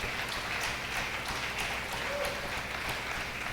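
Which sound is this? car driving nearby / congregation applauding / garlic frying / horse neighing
congregation applauding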